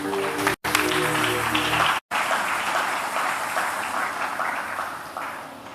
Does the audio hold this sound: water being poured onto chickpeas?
no